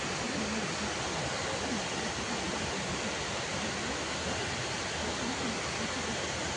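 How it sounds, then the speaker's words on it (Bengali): A waterfall in the dark at night near Kamakhya temple produces an unbroken, dense rushing roar, steady and fairly loud throughout with no pauses. "গাইস এখানে ঝর্ণা আছে"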